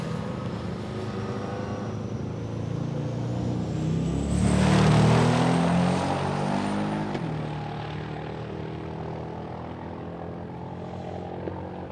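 A turbocharged drag racing car accelerating down the strip at Palmyra Raceway, a rising engine roar that swells to a loud pass around the middle, then fades into the distance as its whine drifts off.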